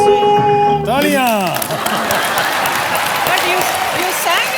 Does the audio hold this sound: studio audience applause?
yes